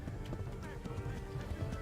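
Horse hooves galloping at a steady run in Kingdom Come: Deliverance, a dense rapid clip-clop beat continuing throughout beneath a voice talking over it.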